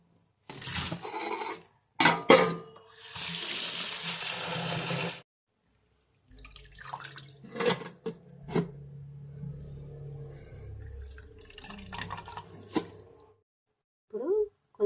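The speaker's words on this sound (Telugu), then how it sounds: "మళ్ళీ ఈ నీళ్ళు పారబోసేసి మళ్ళీ కడుక్కుందాం." Food being washed repeatedly in a bowl of water, with splashing, swishing and pouring as water is drained and refilled, broken by short pauses, close by, with a voice talking over parts of it.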